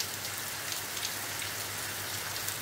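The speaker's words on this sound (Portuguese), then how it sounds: "Agora, a chuva tá caindo." Rain falls steadily on a hot sunny day, a dense, even hiss of drops that holds constant throughout with no voices.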